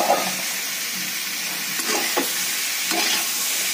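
Mixed vegetables hitting melted butter in a pan on a low gas flame give a steady, close hiss and sizzle with a few soft scraping stirs, no voices.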